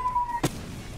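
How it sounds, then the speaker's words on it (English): A single glide bomb explosion in the Roblox WWII shooter, one short, sharp blast landing midway after a steady tone, with faint game ambience around it. "Oh, it does the glide bomb."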